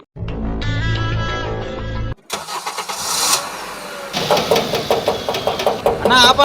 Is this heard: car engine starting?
yes